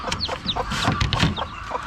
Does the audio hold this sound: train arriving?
no